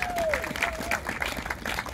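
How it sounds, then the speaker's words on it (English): Scattered applause rises from a crowd at an Earth Hour gathering in Westport, fairly soft and brief, mixed with a voice speaking over it. "raise a big applause to Amber"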